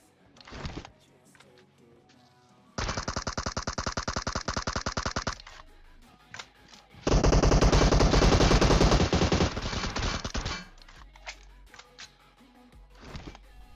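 Rapid automatic gunfire in PUBG Mobile, loud and close, in two long sustained bursts with a few short shots and mechanical clicks between.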